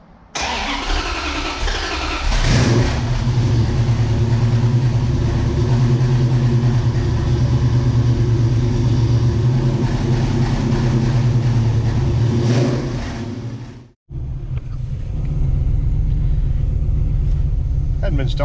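A 1970 Dodge Challenger with a Gen 3 Hemi and an 833 four-speed idles cold after months unstarted. It gives a loud, steady, lumpy rumble close by, cuts out briefly, then settles back in while someone talks over it.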